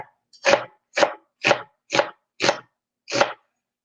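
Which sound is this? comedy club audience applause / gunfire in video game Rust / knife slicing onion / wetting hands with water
knife slicing onion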